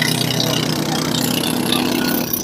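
A boat engine idles at a canoe race off an island in Sumenep, a loud, steady mid-pitched drone with faint voices in the background.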